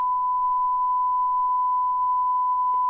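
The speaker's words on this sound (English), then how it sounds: "this beep is long" One long, unbroken electronic beep holds a steady pure tone from start to finish over quiet background hiss, with a couple of faint clicks near the end.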